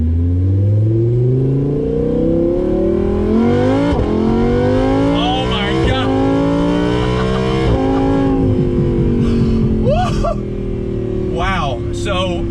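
A 2018 Audi R8 V10 Plus Spyder with 603 horsepower accelerating on the road, its loud engine climbing in pitch through several gears with brief drops at each shift, with someone talking over it.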